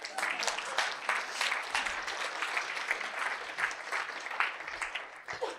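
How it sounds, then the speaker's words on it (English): An audience applauds at the end of a talk on local marketing trends, a steady spread of individual claps of moderate loudness, with a few brief voices mixed in. "Now you can applaud."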